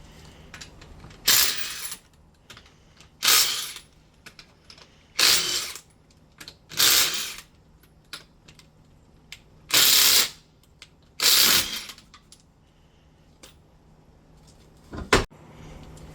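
A Ryobi impact wrench zipping wheel lug nuts off a 2003 Ford Escape, six loud rattling bursts spaced a couple of seconds apart, close up, with light clinks and handling noises between them.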